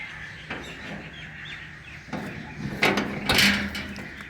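Birds chirp in a tree outdoors with scattered, fairly faint calls over a steady background hum, punctuated by a few sharper nearby clatters.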